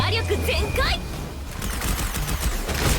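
Rapid gunfire from slide-shooting in the video game Wuthering Waves, a dense run of bursts, with someone talking over the first second before the shots carry on alone.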